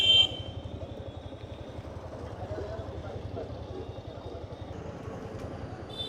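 A motorbike rides along a road near the Bareilly bus stand, its engine giving a steady, low, rapidly pulsing putter close up, with a faint whine and some wind noise.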